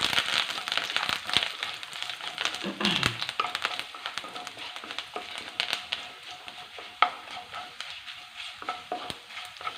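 Garlic sautéing in a pan for a mango chammanthi podi, a steady close sizzle with bright crackles and occasional stirring scrapes throughout.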